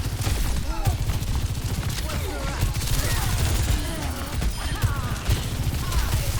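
Rapid gunfire in the video game Overwatch 2, dense repeated shots and impacts in a busy firefight, loud and continuous, with a player's voice over the action.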